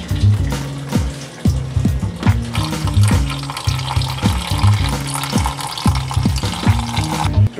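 Piping-hot tap water gushes into a kitchen sink to heat a Kwik Koffee drip coffee maker, making a loud, continuous splashing rush broken by repeated low, rhythmic thumps.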